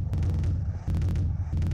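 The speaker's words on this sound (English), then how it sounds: "Oh, I accidentally threw a grenade to my left." Grenade blasts in the flash game Boxhead 2play, two loud booming bursts about a second apart, each with a quick sharp crack and a rumbling low tail, heard alone.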